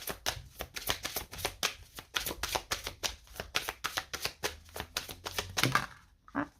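Tarot cards are shuffled in quick, steady riffling bursts, close and crisp, repeating about three times a second before a brief stop at the end; no one speaks.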